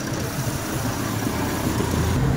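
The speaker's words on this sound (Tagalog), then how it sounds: "So medyo mababa yung kanyang idle nung makina niya" A Toyota Vios engine idles at a slightly low idle speed, giving a steady, even mechanical hum heard up close, with no talk.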